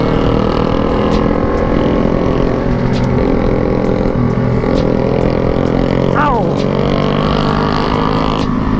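Motorcycles revving loudly on a night ride in Indonesia, with a Yamaha Mio among them, a steady heavy engine drone with throttle swells and one sharp rising rev, very close and loud, with voices talking under it.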